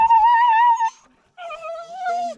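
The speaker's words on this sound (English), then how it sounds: "These are literally our puppy, our security guards here in the homestead." A puppy kept as a guard dog on a rural African village homestead gives two drawn-out, high whining whimpers, close and fairly loud, separated by a brief pause.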